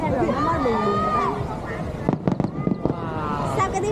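Fireworks burst during an outdoor display, a quick cluster of several sharp pops midway through, heard over steady crowd chatter and talking nearby.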